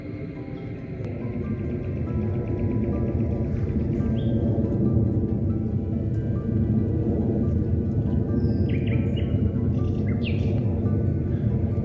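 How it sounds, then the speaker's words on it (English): Scattered bird chirps and calls in woodland at night, brief high tweets rising over a dense, steady low rumble of ambient noise, with no one speaking. "the only sounds that break the stillness are birds, which seem strange in the middle of night"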